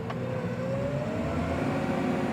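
A big tractor accelerates, its engine note rising steadily under a continuous rumble, close and moderately loud with no talk.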